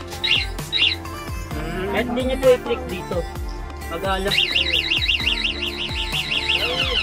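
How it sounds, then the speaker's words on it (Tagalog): An e-bike's anti-theft alarm wails in rapid warbling, siren-like sweeps that repeat steadily and loudly, preceded by short chirps while someone speaks Filipino over it. "Tapos meron din po siya activation ng alarm din sa susi."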